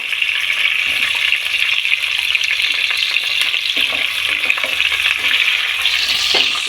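Green chillies and onions frying in oil for biryani, a loud, bright hiss that runs steadily throughout, with occasional stirring scrapes close by.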